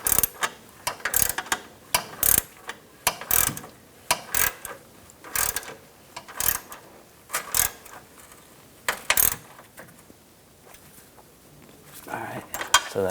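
Nuts being tightened onto the studs of an air ride suspension compressor on a 2015-2020 Cadillac Escalade, giving rapid repeated metallic ratchet clicks in short bursts, close and distinct, with no talking.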